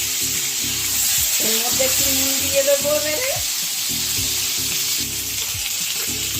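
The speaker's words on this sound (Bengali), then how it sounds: "যে পটলটা একটু ভাজা হয়ে গেছে, আলুটা দিয়ে দিয়েছি, দিয়ে এবারে এইটা আর একটু ভাজা হবে" Pieces of pointed gourd and potato fry in oil in a pan, giving a steady hiss and crackle with occasional clinks of a stirring utensil, while someone talks over the sizzle.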